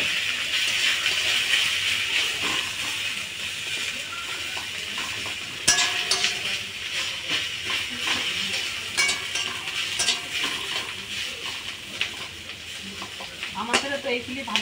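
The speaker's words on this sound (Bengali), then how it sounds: "লাল লাল হয়ে গেছে ভাজা, হালকা সা একটু জ্বালাই কুরকুরা করে নেব" Drumstick leaves frying in a pan with chilli, salt and turmeric until crisp, a steady sizzle broken by repeated stirring scrapes and occasional clinks of a utensil against the pan.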